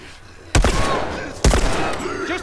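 Two loud, close gunshots ring out in The Last of Us, spaced about a second apart, each a sharp blast trailing into a rumbling echo, with faint voices underneath.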